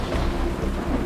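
Steady heavy rain hisses outdoors with a low rumble of thunder underneath, continuous and fairly loud, no voices.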